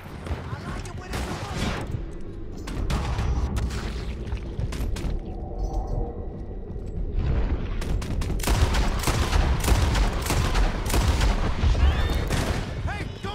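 A Red Dead Redemption 2 shootout: repeated loud gunshots crack out at close range in irregular volleys, some booming, with voices shouting between the shots and the firing growing denser toward the end.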